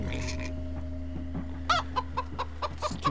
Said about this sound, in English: Stupid ass chicken.